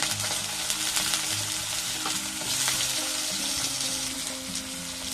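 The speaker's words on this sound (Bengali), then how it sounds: "এবারে এই তেলের মধ্যে দিয়ে দেবো আলু" Diced potato frying in hot oil for a bathua saag dish, a steady dense sizzle with occasional stirring scrapes, close and loud throughout with no talking.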